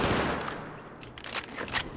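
ACWR assault rifle fired aiming down sights in Battlefield 4, a sustained burst of rapid automatic shots with dense sharp cracks filling the whole stretch at steady loudness.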